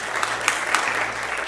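A live audience claps briefly, a short, fairly loud burst of applause from a room full of listeners lasting under two seconds.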